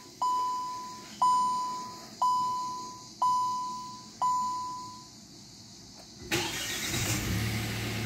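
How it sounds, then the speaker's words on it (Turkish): Five evenly spaced electronic chime beeps from a 2023 Kia Stonic 1.0 turbo 100 hp, then the engine cranks and catches with a sudden loud rush of noise that settles into a steady idle close by. "Hemen arabanın motorunu çalıştıralım."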